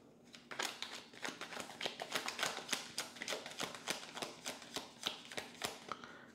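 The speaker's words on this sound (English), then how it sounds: "all the cards are upright before I start shuffling" A deck of tarot cards shuffled by hand, giving a rapid run of crisp, close riffling snaps and taps in an uneven rhythm, with no talking.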